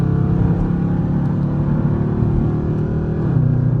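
A Dodge Charger with paddle shifters accelerating in a low gear, its engine giving a steady loud droning rumble and whir from inside the car that shifts slightly in pitch near the end.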